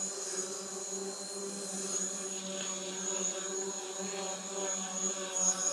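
A DJI Mavic Pro drone hovers outdoors in windy conditions, giving off a steady high-pitched propeller whine with layered tonal hum that wavers slightly as it fights gusts, heard at moderate distance.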